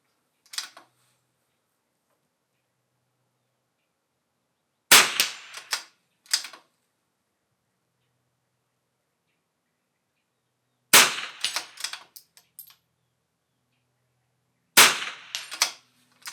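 Bursts of .22 rifle fire during an NRL22 match stage, sharp cracks in quick clusters of two to four shots separated by long silent pauses while a magazine is changed and positions shift.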